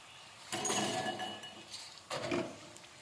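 Fried banana chips being scooped out of hot oil for sharkara upperi, with two short bursts of metallic scraping and clinking from the ladle against the pan, close and moderately quiet.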